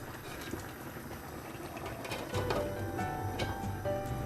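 A covered pot of mushroom curry bubbles steadily at a low, continuous simmer, a soft even boil with faint clinks and a voice speaking quietly in the background.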